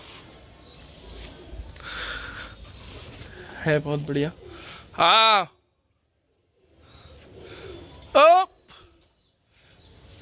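Pigeons cooing nearby in a loft, with a few short coos and call bursts between bits of casual talk in Hindi.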